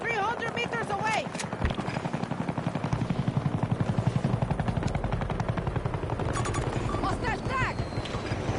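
A hostile helicopter in a video game throbs with a steady rotor chop under bursts of gunfire and a brief voice callout.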